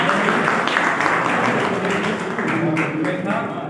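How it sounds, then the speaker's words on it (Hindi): An audience at a teachers' retirement ceremony applauds for Zubair sahab, with dense, steady clapping that fills the room while voices carry on underneath. "जुबैर साहब के लिए आप लोग तालियां बजाइए।"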